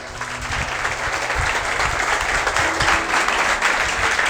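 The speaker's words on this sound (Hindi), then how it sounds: "बेटा आप सब लोग अपने अपने लिए जोरदार तालियां बजाइए एक बार।" A classroom of young students preparing for the Indian Army written exam claps for themselves in a brief, vigorous, close burst of dense applause that stays strong throughout.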